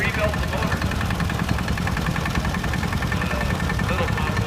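An old restored tractor with a rebuilt engine idles steadily at a tractor show parade, a continuous low throbbing rumble that stays close and constant, with people talking over it.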